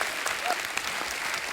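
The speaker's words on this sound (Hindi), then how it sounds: "जोरदार तालियां यार असरानी साहब के लिए" Brief burst of steady applause from a studio audience on a comedy talk show, welcoming the actor Asrani, clapping dense and even throughout.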